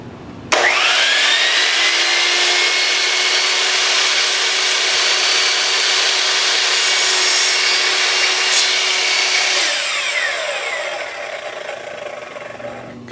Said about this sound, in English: I'm cutting them with the flange down so as to avoid breakout